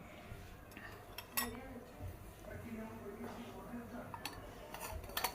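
Metal plates clinking and tapping as they are handled in a home kitchen while preparing potato sev, several light scattered clinks under a woman's ongoing speech.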